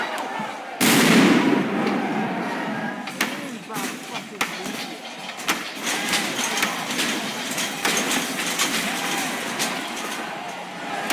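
Firecrackers and bottle rockets set off at a street protest, a burst of loud pops followed by scattered sharp bangs and crackles over crowd noise and shouting voices, recorded close in a chaotic outdoor scene.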